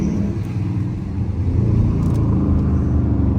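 Dodge Charger R/T engine rumbling steadily while driving through Times Square in New York City, a loud, continuous low drone with slight swells as it accelerates, close and alone without talk.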